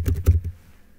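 Typing on the keyboard of a Razer Blade 15 Advanced gaming laptop: a quick burst of close keystroke clicks and taps, then a quieter tail as the typing trails off.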